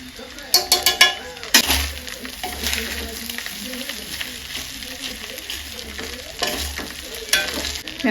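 Vegetable fried rice with garam masala and pepper being stirred and fried in a pan, with a steady sizzle broken by scraping spatula strokes and a few clinks near the start and end.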